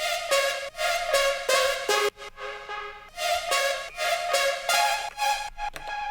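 A bright synthesizer lead plays a choppy, rhythmic pattern of short stabbed notes with brief pauses, alone and clear.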